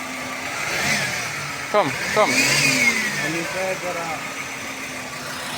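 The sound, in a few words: car engine running and revving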